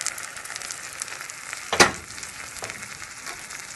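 Blended tomato sauce goes into a hot pan of aromatics for meatballs, a steady sizzle and fry with a sharp burst of spattering as it hits, then continued frying alone.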